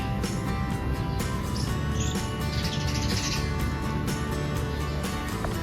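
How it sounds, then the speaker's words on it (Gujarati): Sparrows chirp and tweet continuously in a busy chorus, fairly close, over a steady outdoor background with no voices. "આપણે ઝીણી ઝીણી ચકલીઓ બોલે છે"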